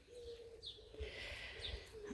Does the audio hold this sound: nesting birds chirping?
yes